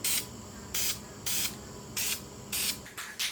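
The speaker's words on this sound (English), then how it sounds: "White, we're going to do some white even coats." A spray can lays white coats of paint on a Z900 motorcycle kickstand foot, six short even hissing bursts, about a second apart, close and alone.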